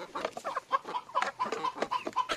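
Backyard chickens cluck in a close, busy chorus of short rhythmic clucks and chatter, overlapping steadily with no talking.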